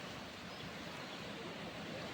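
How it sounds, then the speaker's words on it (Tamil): Water overflowing from Krishnapuram big lake, fed from Visukudi dam near Annamangalam in Perambalur district, rushing as a steady, dense roar close by, unbroken throughout. "தண்ணி வந்து அதிகமாக வெளியே வந்துருக்கு"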